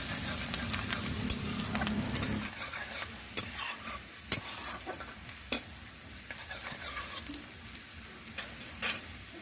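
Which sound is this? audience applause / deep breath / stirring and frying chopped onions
stirring and frying chopped onions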